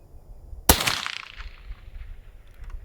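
A single sharp crack from a lightweight concealable sniper rifle, loud and sudden, followed by a rolling outdoor echo that fades over about two seconds; no talking.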